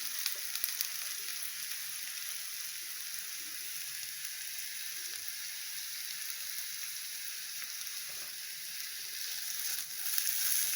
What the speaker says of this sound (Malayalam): സവാള വഴന്ന് വന്നിട്ടുണ്ട്.